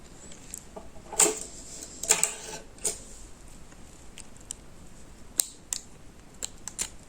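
Scissors snip yarn while an amigurumi keychain is being made, giving several crisp close cuts in uneven bursts with quiet gaps between.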